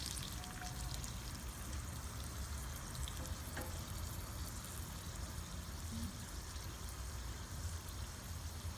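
Small bits sautéing in a pan while making Malaysian curry mee, a steady, soft, even sizzle throughout, quiet and close, with no voices.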